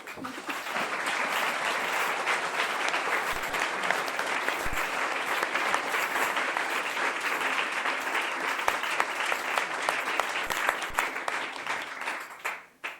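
Sustained audience applause fills a room at an evening bookstore author talk, steady, dense clapping from many hands for about twelve seconds before stopping abruptly.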